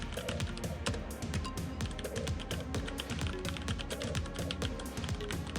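Rapid typing on a computer keyboard, a dense, steady run of light clicks and taps close by with no pauses longer than a moment.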